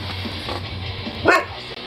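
A dog gives a single loud bark partway through, close by, over a low indoor hum with no speech.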